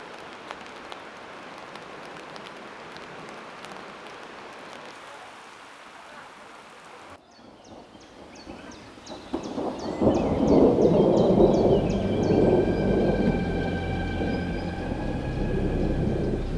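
Rain and thunder hit during a rock climb in the Verdon, a steady hiss of rainfall that shifts partway through, then swells into a louder, rumbling wash of heavy rain and thunder with no talk.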